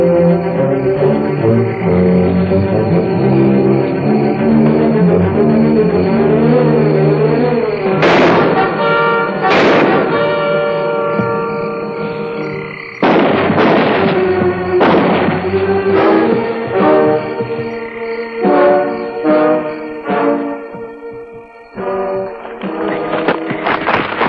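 War-movie battle sounds of artillery and gunfire, heavy booming blasts and sharp reports over a loud, sustained orchestral score, with several strong impacts clustered in the second half.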